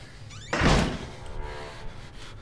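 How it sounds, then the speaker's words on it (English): A door slams shut with one heavy thunk in the horror video game Outlast, followed by a fading rumble. "Stop slamming doors!"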